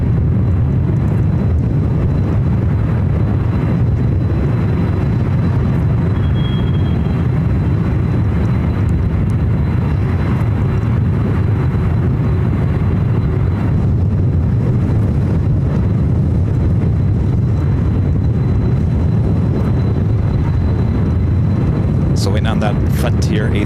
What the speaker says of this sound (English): we've got the 767 now starting its taxi, should be heading over to runway 26 left